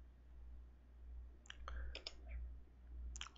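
Computer keyboard keys click while Mortal Kombat Trilogy is played, a few quick faint taps in small clusters over a low steady hum.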